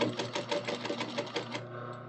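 A sewing machine topstitches a fold in stretch fabric, running in a fast rapid-fire stitching rhythm for most of the moment, then stopping abruptly near the end.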